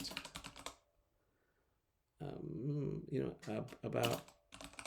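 Keys clatter on a computer keyboard as a prompt for an AI writing tool is typed, a quick burst of close tapping between stretches of speech.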